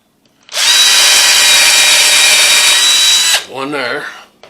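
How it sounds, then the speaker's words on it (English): A power drill drives a screw into wood in one steady, loud high whine lasting about three seconds, then stops and someone speaks briefly, while building a DIY landscape fabric pin inserter. "Now let's put in 2 screws on this side."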